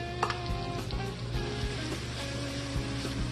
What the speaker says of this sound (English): Now that that butter is melted, I'm going to go ahead and add next my onions